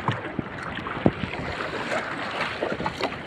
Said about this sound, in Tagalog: Kung makikita nyo, sobrang lakas ng alon.